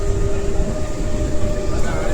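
A nearly empty commuter train rumbles along loudly and steadily during heavy monsoon rain, a constant low roar with a faint whine riding on top.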